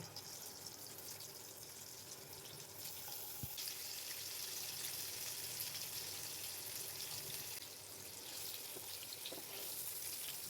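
Eggs frying in hot mustard oil in a kadai, producing a continuous, close crackling sizzle that grows slightly louder after the first few seconds and stays steady, with no talking.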